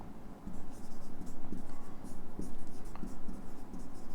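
Pen or marker writing a note on a board, steady close scratchy strokes in quick rhythmic bursts across the whole stretch, with faint room noise.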